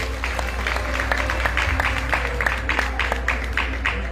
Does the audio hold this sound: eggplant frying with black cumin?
no